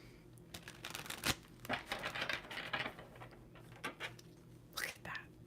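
Tarot cards being shuffled during a reading, a series of soft, papery riffles and slaps in irregular bursts, close and quiet, with faint whispery breaths between them.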